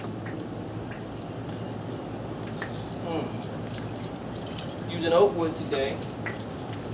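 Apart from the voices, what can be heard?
rain falling during a hurricane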